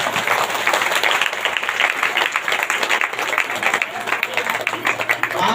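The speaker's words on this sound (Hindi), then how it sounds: "जोरदार ताली से लोग धन्यवाद करें।" A church congregation at a Sunday prayer service claps loudly and continuously, a dense crowd applause with faint room hum underneath and little talk.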